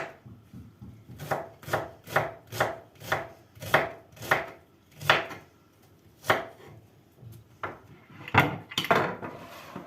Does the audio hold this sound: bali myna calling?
no